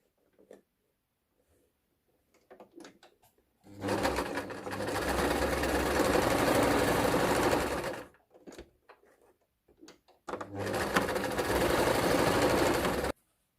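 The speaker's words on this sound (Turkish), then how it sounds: "Şimdi lastiği dikiyorum lastik geçirmesini yapacağım." A sewing machine stitches elastic onto a tiered skirt in two steady, loud runs of whirring, separated by quiet handling and small clicks, with no talking.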